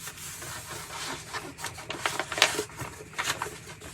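Custom printed sticker paper being rolled out and smoothed onto a Hobby Lobby backdrop, giving soft, steady rubbing and crinkling with a few sharper papery crackles, close and moderately quiet.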